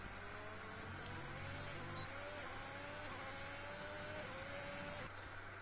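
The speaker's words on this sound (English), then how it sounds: "accelerating into the pit lane" An F1 car in a racing video game accelerates into the pit lane, its faint engine whine climbing in pitch in repeated steps over a steady low rumble.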